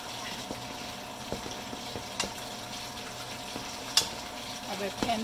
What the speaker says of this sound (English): I will pan fry until it dries